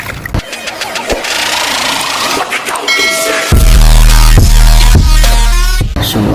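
A repaired washing machine motor hums loudly and close by, starting with clicks and rattles, then settling into a strong, steady drone that grows louder partway through.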